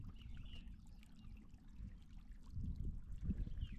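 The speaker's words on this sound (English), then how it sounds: "It's a spring bubbling straight out of the ground," Low, steady gurgling and trickling of spring water bubbling up from the ground on a Castle Peak hike, close and soft, with the flow swelling slightly louder toward the end.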